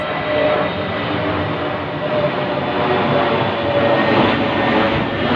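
A steady, broad roar of passenger planes flying overhead, loud and continuous with a gentle swell and fade, with no voices.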